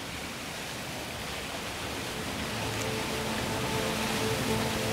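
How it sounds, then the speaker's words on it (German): A waterfall in a snowy landscape roars as a steady, broadband rush of falling water, close and continuous, swelling slightly louder in the second half with no voices. "Fokussiere auf den Wasserfall."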